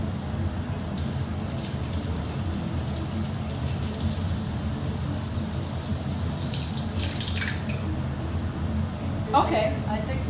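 Food being washed under running kitchen tap water, a steady close stream of splashing water running throughout, with a few clinks near the end and a voice talking over it.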